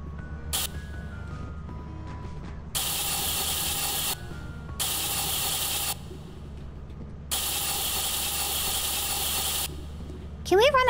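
A spray paint can hisses in a video game, in several long bursts of broad steady spray separated by short pauses, loud and close over a low engine-like rumble.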